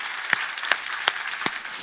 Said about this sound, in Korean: 하나님께 감사와 영광의 박수를 보내드리겠습니다.